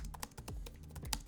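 Keys clatter on an Asus Zenbook Pro 14 OLED laptop keyboard, a quick irregular run of crisp, slightly rattly clicks close up with no talking.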